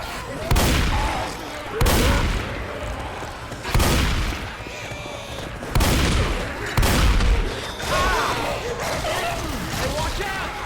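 Heavy bursts of gunfire at the Tank in the video game Left 4 Dead 2, loud booming volleys repeating every second or two, with in-game voices calling out between shots.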